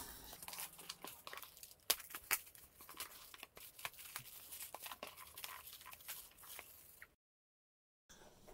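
A package left wrapped for almost 30 years is torn open, with repeated sharp rips and crinkling paper bursts close by, then a short silence near the end; no one speaks.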